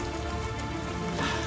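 Rain falls steadily during a mountain hike on Gunung Patuha, a constant close hiss of drops pattering on surfaces, even and unbroken, with no voices.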